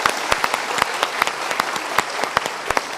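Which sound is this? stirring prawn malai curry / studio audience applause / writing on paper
studio audience applause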